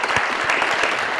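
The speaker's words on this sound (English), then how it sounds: "We give her a round of applause." A lecture audience gives a brief round of applause, a short burst of fairly loud, dense clapping heard on its own.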